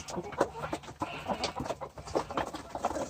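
Roosters and chickens clucking and cackling in a lively flock at feeding time, close by, with a faint voice mixed in among the birds.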